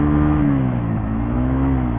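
A 2020 Suzuki GSX-R 150 fairing motorcycle engine drones steadily while riding, a loud continuous hum with a slowly shifting pitch that dips briefly midway then climbs again, heard alone without talk.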